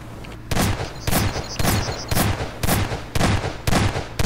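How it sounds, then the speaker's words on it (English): A video game gun fires in about eight loud, evenly spaced bursts of rapid shots, each roughly half a second long, with brief gaps between them. "that will turn to 1 and the gun will fire"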